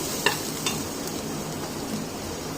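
Onions and chili sauté in a pan, giving a steady close sizzle with a couple of light stirring taps and scrapes, continuous and without talking.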